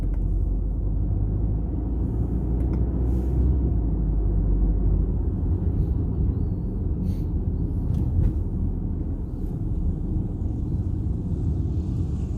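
Steady low road rumble and muted engine hum inside the cabin of a 2012 Volkswagen Tiguan on the move, a calm, even drone with faint soft ticks and no talking.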